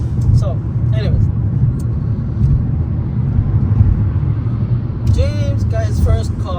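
Steady low road rumble from inside a car driving on a highway in snowy weather, continuous throughout, with people talking over it and a brief squeaky sound near the end.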